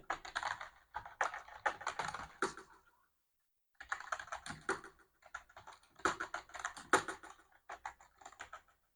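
Fingers typing a file name on a computer keyboard in quick bursts of clicking keystrokes, broken by a clear pause of about a second before the tapping resumes.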